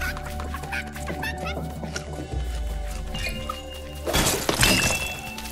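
Dogs yip, whimper and bark in the LEGO Fortnite video game, mixed with game sound effects and a sharp crash near the end, with voices talking faintly in the background.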